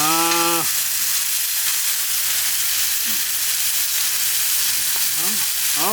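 Onions sizzling and frying loudly over a rocket wood stove fire pit at a campsite, a steady dense hiss throughout, with brief voices at the start and end.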